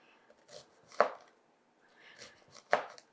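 A knife chopping onion into small strips on a board: two clusters of crisp cutting strokes, each ending in a sharper chop, close up with quiet gaps between and no talking.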